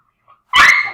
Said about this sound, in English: It was a crazy corgi in the background.